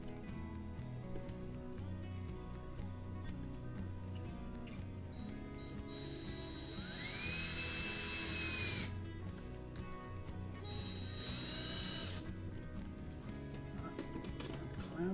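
A power drill drives screws into a clamped model, with short whirring bursts and a couple of longer rising whines between quieter pauses, heard up close.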